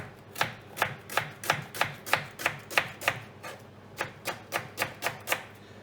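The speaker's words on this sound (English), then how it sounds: "So to cut the onion, just cut it in half" A knife chopping through an onion on a cutting board in a home kitchen, about fifteen sharp, evenly spaced knocks in a brisk steady rhythm, close and clear with no talking.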